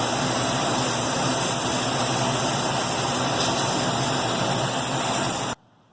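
Acetylene torch roaring as a steady, loud broadband hiss while it heats aluminum cranks on a penny-farthing high wheel bike, holding constant for several seconds before cutting off abruptly.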